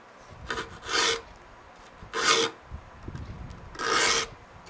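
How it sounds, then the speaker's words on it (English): A knife file sharpening the teeth of a pole saw blade: three loud, close rasping strokes in an even rhythm, with fainter scrapes between them and no talking. "My knife file is also cutting the tooth a little bit deeper"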